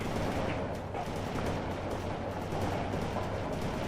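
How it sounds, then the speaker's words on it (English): A Bradley fighting vehicle firing from position in World in Conflict, a dense barrage of loud, rapid gun and cannon fire merging into continuous battle noise with no pauses. "Bradley firing from position"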